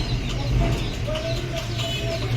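Pigeons coo softly at a market selling Punjabi Madrasi pigeons, a few low, repeated throaty calls close by over steady background noise.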